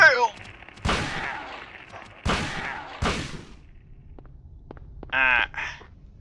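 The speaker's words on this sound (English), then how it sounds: "Oh shit, I hear gunfire." Several sharp gunshots crack out in Silent Hill 1, spaced irregularly, with a short burst of electronic sound near the end and no talking.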